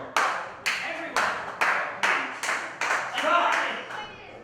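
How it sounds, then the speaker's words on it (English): A wrestling crowd at an indie show claps in unison, about nine sharp, evenly spaced claps with slight echo, and a few voices murmur underneath. "Stop clapping!"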